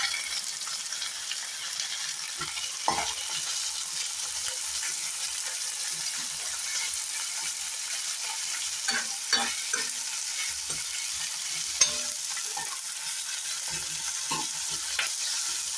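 Chopped capsicum sautés in a pan under a continuous soft sizzle, with scattered stirring knocks and scrapes throughout.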